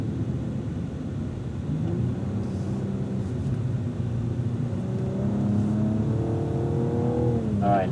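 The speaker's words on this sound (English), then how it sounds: "get hard on the gas here so you can experience some of that 464 horsepower that the twin-turbo V6 puts out" A Cadillac twin-turbo V6 of about 464 horsepower accelerates hard on a speedway track, a steady low engine drone whose pitch climbs through the gears toward the end, heard from inside the car with no talking.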